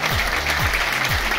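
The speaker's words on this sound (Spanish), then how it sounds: "recibamos con un caluroso aplauso a nuestros alumnos de sexto grado" A crowd applauding graduating sixth-grade students at a primary school graduation ceremony, steady loud clapping throughout with faint low tonal sweeps beneath it.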